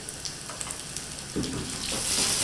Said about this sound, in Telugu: ఇప్పుడు ఉల్లిపాయ వేగిపోయింది